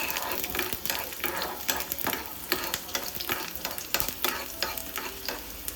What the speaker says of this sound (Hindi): अब इसमें गार्लिक डाल के इसको फ्राई कर लेंगे